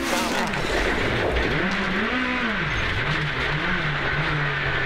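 Rally car on a tarmac stage during a power stage event in Victoria, Australian Rally Championship 2014, engine loud and continuous with pitch rising and falling through gear changes and cornering, heard up close for several seconds.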